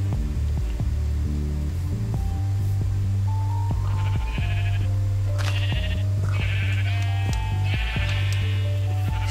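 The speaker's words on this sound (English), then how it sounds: "So many sheep." Several sheep bleat repeatedly in a video game, their calls overlapping at mid distance over a steady low hum and game music, with no talking.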